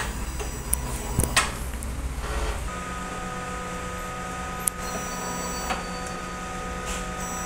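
A sublimation printer runs a head nozzle cleaning cycle, with a steady mechanical hum and whir broken by small clicks and ticks of the moving print head, heard close and without voices.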